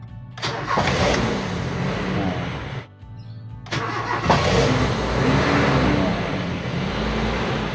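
A car engine converted to CNG runs steadily during regulator tuning, with a loud, even mid-pitched drone that briefly dips and returns before rising slightly with a touch of throttle.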